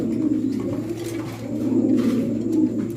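Pigeons coo steadily in a low, throaty murmur, several birds overlapping continuously at close range with no talking.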